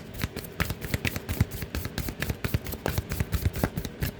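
Tarot cards shuffled by hand at a steady pace, a quick run of crisp riffling slaps and papery flutters, close and clear with no talking.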